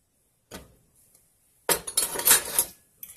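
Spoon clinking against a bowl while stirring finely chopped cilantro into an oil-free dressing, a light tap, a pause, then a close burst of scraping, clattering strokes.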